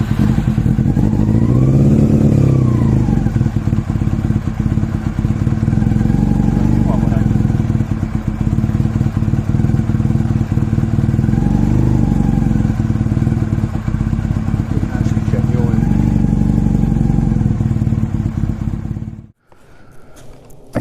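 A Honda CB400 Super Four motorcycle, started cold on full choke, idles with a loud, steady four-cylinder rumble close by, rising slightly in a few places before cutting off abruptly near the end.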